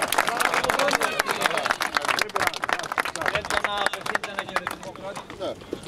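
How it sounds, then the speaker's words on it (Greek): Scattered clapping from an outdoor crowd at a 2023 horse gathering in Greece, uneven and moderately loud, mixed with voices talking and some clattering. "Χειροκρότημα."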